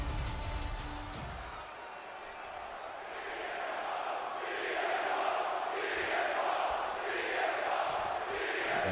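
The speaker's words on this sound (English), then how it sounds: "This crowd clearly showing whose side they're on before we even get this" Crowd noise from a WWE 2K24 SmackDown wrestling match, a steady roar of cheering that swells in waves toward the end, with a brief burst of sharper sound at the very start.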